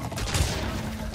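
Explosion in the PS4 Crash Bandicoot game, a dense, sustained low rumbling blast with a noisy burst filling the short moment, no talking over it.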